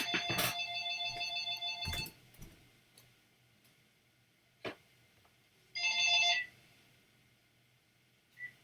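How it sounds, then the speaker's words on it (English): A telephone rings in short electronic bursts: two brief rings near the start, a few faint clicks, then another ring a few seconds later, each one fairly quiet against a hushed room. "that stupid phone's ringing."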